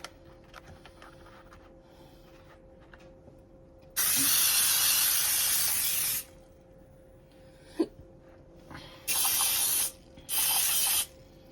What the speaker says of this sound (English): Now we're going to just get our pans and spray them